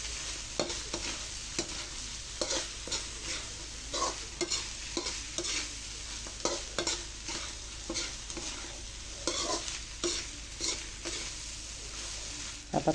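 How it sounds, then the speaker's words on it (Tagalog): Bopis sautéing in a pan, a continuous close sizzle broken by regular scraping stirs of a utensil against the pan, moderately quiet and with no talking. "Sangkutsahin natin."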